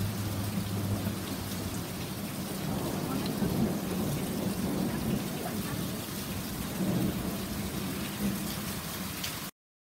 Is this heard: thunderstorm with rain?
yes